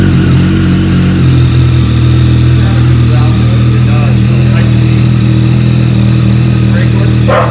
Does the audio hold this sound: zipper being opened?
no